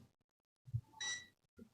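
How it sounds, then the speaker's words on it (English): A multimeter set to continuity mode gives a single short, sustained electronic beep during a contactor check, preceded by a couple of soft handling clicks and followed by another brief click. "You have a diode, the beeping as the continuity, and ohm."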